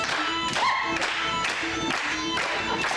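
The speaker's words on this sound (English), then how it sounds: "And just clap in place now." People on a film set for a wedding celebration scene clapping in place, a loud continuous patter of many hands with periodic louder pulses, and voices and crowd noise mixed in.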